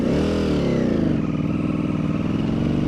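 Ducati V4 Superleggera motorcycle engine over-revved in second gear, a loud close buzzing roar with dense harmonic pitch that eases slightly partway through, no talk.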